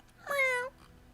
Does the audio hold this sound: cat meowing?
yes